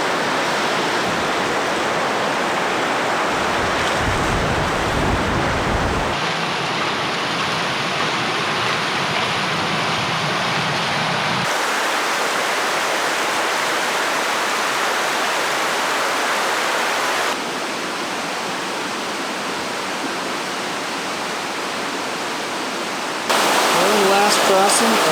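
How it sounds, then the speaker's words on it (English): Shadow Creek in the Ansel Adams Wilderness of the High Sierra rushes in a loud, continuous roar of flowing water, its level and tone shifting a few times as the listening spot changes. "Here's Shadow Creek again."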